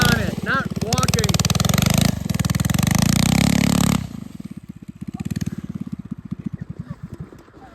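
A mini bike engine putters in the snow, loud close revving with a rough rhythmic chug, then dropping to a quieter, uneven idle that fades and pulses; a voice talks over the first half.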